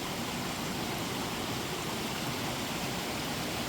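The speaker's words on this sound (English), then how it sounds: "The creek. Isn't that cool? And the sound of it." A creek swollen by a recent storm runs through a garden, giving a steady, faint rushing and babbling of flowing water that continues evenly throughout with no voices.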